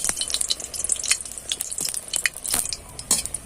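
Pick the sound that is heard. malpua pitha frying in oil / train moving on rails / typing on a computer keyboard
malpua pitha frying in oil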